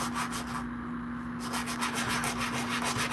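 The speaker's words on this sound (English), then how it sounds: "I'm sanding this here." Rhythmic back-and-forth scratching of hand sanding on a metal ring, brief pause midway, over a steady electrical hum.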